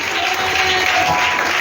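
A church congregation applauds together in a steady, dense wash of clapping that fills the space for the whole moment, with no voice standing out above it.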